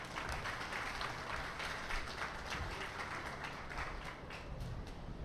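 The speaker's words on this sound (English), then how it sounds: "Please give a round of applause for my intermediate showman." Applause from the audience at a 4-H pygmy goat show, a fairly faint, steady patter of many hands clapping in a show arena, lasting the whole stretch.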